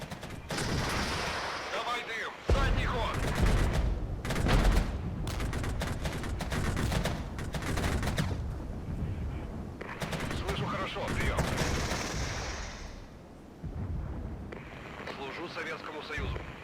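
Artillery booms and gunfire crackle through a battle in the modern warfare game Regiments, bursts of shots and heavy impacts rolling on and off, while someone talks throughout.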